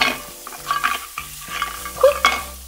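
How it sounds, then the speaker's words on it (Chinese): An egg frying in oil in a toy kitchen pan sizzles and crackles softly in uneven bursts, with background music running underneath. "倒上油，开火，咻，把蛋放进去"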